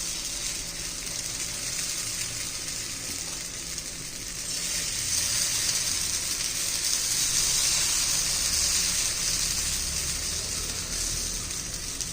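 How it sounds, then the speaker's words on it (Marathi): Thin tomato-and-rice dosa batter sizzles steadily on a hot tava, a continuous bright hiss that swells louder midway and holds, with no talking. "आता त्याच्यावर आपण बॅटर घालून घेऊया"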